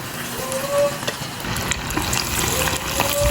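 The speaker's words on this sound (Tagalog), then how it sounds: "Ayan, lagay ko na yung chicken. Pa isa-isa." Chicken pieces dropped one at a time into hot oil for crispy fried chicken, frying with a steady bubbling sizzle and occasional stirring clatter, close up, with no one talking over it.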